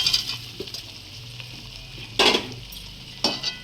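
Fried potatoes go into a pan of chicken curry, met with a loud sizzle and stirring scrapes, plus a couple of sharp spatula-and-pan clinks partway through.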